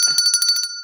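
A small bell rings rapidly with bright, shimmering metallic tones, several quick strikes close by, then a lingering ring fading out.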